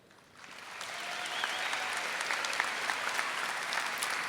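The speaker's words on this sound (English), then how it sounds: "I'd like to start off by giving another round of applause to the class of 2017" An audience at the 2017 Manzano High School graduation ceremony breaks into sustained applause, starting after a brief quiet moment and swelling into a steady, dense wash of clapping that holds for several seconds.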